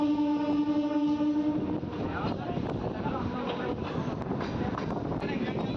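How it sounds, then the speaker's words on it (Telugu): A MEMU local train on the Vijayawada–Machilipatnam line pulls out of Pedana station. A steady horn-like tone fades into rising rumble and clatter of the carriages, with wind buffeting the microphone throughout. "పేడన స్టేషన్ నుంచి మన ట్రైన్ బయలుదేరిపోయింది"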